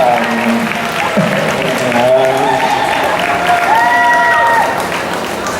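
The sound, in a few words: audience applauding at a convention panel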